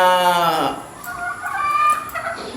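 A gamefowl rooster crows loudly at close range, one long crow that fades into softer clucking noises from the farm birds.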